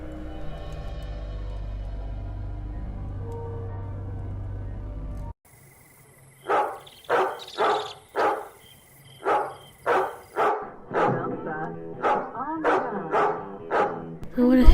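A dog barks in a run of loud, close barks repeating at a quick, uneven pace after a stretch of low background rumble.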